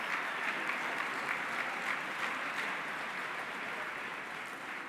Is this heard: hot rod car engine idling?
no